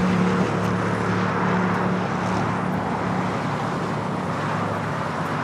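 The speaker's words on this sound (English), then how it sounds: "This is the ANA flight coming up from Tokyo Haneda 787-9 Dreamliner." An ANA Boeing 787-9 Dreamliner arriving from Tokyo Haneda at LAX gives a steady, broad jet roar with a low engine hum, holding at a constant level throughout.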